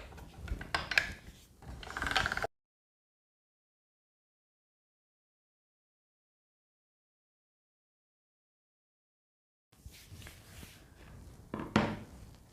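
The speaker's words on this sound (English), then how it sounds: "you want to put it through your pasta machine until you've got the thinnest setting." Cold porcelain clay cranked through a pasta machine at its thinnest setting, with a rough mechanical ratcheting and grinding burst at the start, a long silent gap, then another grinding stretch at the end.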